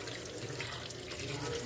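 Tap water runs steadily into a kitchen sink as vegetables are rinsed for a salad, a continuous close splashing hiss that holds at an even level with no voices.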